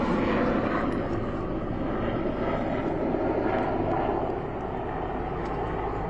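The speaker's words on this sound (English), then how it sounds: "It's helicopters." Helicopters fly overhead near an outdoor Los Angeles County fire briefing, a loud, steady rotor and engine roar that fades slightly toward the end.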